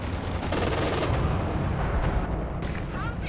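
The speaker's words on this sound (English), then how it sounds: "Machine guns do some work." Machine gun fire in the video game Company of Heroes 2, dense rapid bursts mixed with artillery thuds, loud and continuous battle noise.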